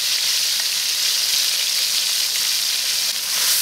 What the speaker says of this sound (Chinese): 豆瓣酱呢一定要炒一下